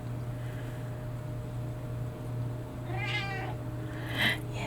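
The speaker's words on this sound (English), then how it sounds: "Yes, I know, Kitty. The world revolves around you" A house cat meows twice toward the end, close and clear over a steady low hum.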